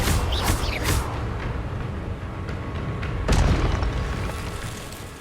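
A spell being cast in the Hogwarts Legacy video game, heard as heavy booming magical blasts with sharp bursts near the start and another big impact midway, then a rumbling decay.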